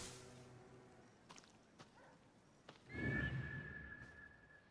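A horse in a stable in the Assassin's Creed Origins video game neighs once, loud and close, after a few soft hoof clops and quiet rustling.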